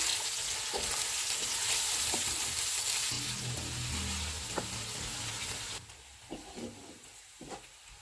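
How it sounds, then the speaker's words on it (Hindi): Onions sizzle and crackle in hot oil, a steady bright hiss with occasional taps of a spoon stirring, quieting slightly toward the end. "प्याज डालेंगे, इनको गोल्डन फ्राई करेंगे।"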